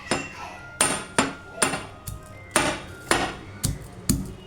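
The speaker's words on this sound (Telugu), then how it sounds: "4-5 తెల్లుల్లి రబ్బలు తీసుకొని దంచుకుంటున్నాను" Garlic cloves, four or five of them, pounded in a mortar for a potato curry, giving about nine sharp, ringing thuds at a steady, slightly uneven pace, close by and with no talking.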